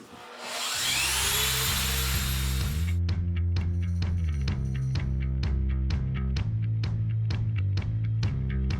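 A Harbor Freight Bauer drywall sander hooked to a shop vac spins up with a rising whine, then settles into repeated rhythmic scraping strokes against a wall over a steady vacuum roar, close and loud throughout.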